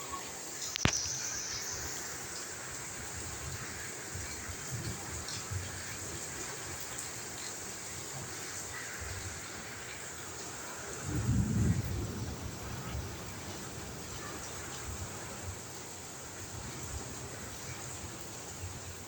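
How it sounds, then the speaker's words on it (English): Steady rain falling on a rainy day, a continuous broadband hiss with no speech, plus a brief low rumbling swell near the middle of the clip. "Enjoy the sound of the rain."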